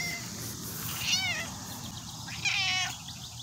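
A garden cat meows twice outdoors, each call a clear rising-falling cry, moderately close, with quiet background ambience between them.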